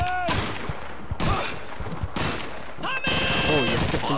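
MG42 machine gun fire in Call of Duty 2 comes in loud, dense rattling bursts separated by short pauses, mixed with other battlefield gunfire and faint shouted voices.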